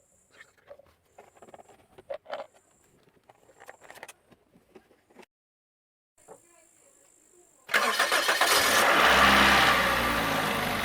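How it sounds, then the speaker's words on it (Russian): A car engine is started after cooling down during an engine decarbonizing job with dimexide. Light handling clicks and taps come first, then a short pause, then the engine catches and settles into a loud, steady idle. "сейчас заведем и доведем его до рабочей температуры"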